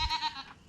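A Boer goat gives a single short, nasal bleat at close range on a farm, loud at first and then fading.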